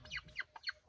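Young chicks being placed into a coop, giving a few quick, faint, high peeps in a short run.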